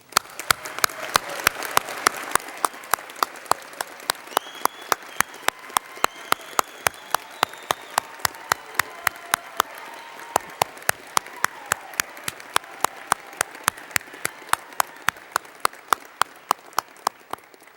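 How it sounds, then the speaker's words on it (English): A commencement audience gives graduating students sustained applause at a winter ceremony, a dense wash of clapping with a loud, regular clap close by cutting through the whole stretch. "in applauding these students"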